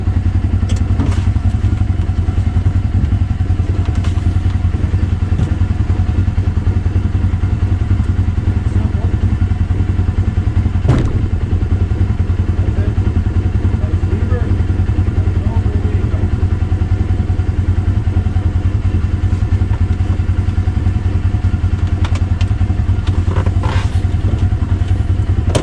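Kubota Sidekick 850 utility vehicle with a metal blade plowing snow down a driveway, a steady loud engine drone with low rumble throughout, with occasional clatter and thuds from the blade.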